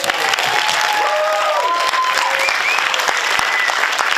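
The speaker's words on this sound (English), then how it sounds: "take this round of applause" An audience at a live Q&A applauds cast members of a comedy sitcom pilot, with loud, dense, sustained clapping filling the room and a few faint voices and cheers mixed in.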